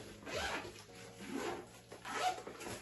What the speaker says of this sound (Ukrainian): замки, знаєте, коли нові, вони посерединки і ти можеш відкрити в будь-яку потрібну сторону